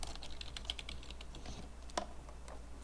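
Login credentials are typed on a computer keyboard as a quick run of soft, close key clicks with no speech.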